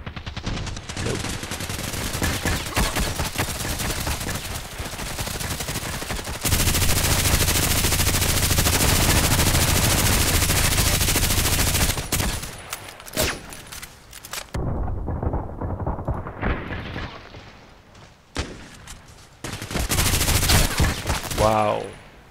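Sustained machine gun fire in the online shooter Contract Wars, loud dense bursts running for several seconds, then breaking into shorter volleys and scattered shots with brief pauses between them.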